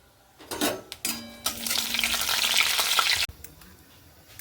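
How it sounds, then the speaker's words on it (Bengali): Cumin seeds and dried red chilies hit hot oil with a sudden loud sizzle that swells into steady, bright crackling frying, with a few utensil clinks at the start and the sizzle cutting off abruptly near the end. "তেল গরম হয়ে গেল এবার আমি সাদা জিরে দিয়ে দিচ্ছি আর দিয়ে দিচ্ছি শুকনো লঙ্কা"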